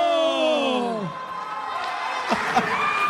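Wrestling arena crowd cheering and whooping during a match, a broad roar with rising shouts and a few sharp yells, with a commentator's voice over it.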